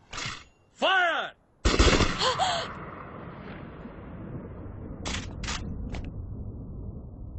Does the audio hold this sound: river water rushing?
no